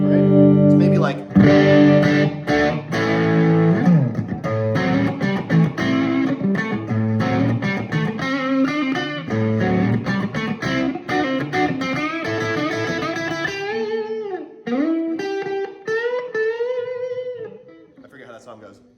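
Electric guitar with a slightly overdriven, edge-of-breakup tone playing bluesy chords and single-note lines, loud and continuous, ringing out near the end.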